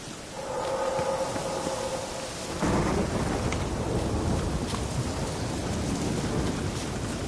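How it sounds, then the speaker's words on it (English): A thunderstorm in a PS4 video game: steady heavy rain hisses throughout while a deep rumble of thunder swells and rolls on, loud and enveloping, with no speech. "A storm, damn it."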